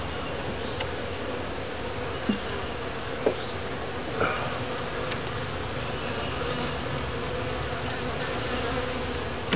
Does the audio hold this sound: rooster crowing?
no